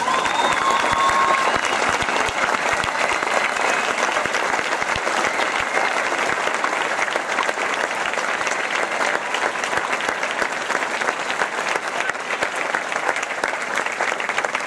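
An audience at a Milwaukee County Republican Party Reagan Day Dinner applauds state legislators, producing a dense, steady wash of many hands clapping that holds for the whole stretch without a pause.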